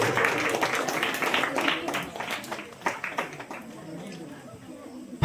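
An audience claps for a Class 7 student at a Children's Day prize ceremony, a burst of loud clapping that thins out and fades toward the end.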